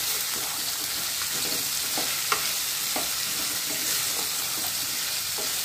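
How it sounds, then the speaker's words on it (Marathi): Okra stir-fried with dry spices in a pan gives a steady, loud sizzle throughout, with soft scraping stirs repeating every half second or so. "भेंडी आपण छान यात एकजीव अशी परतून घेऊया"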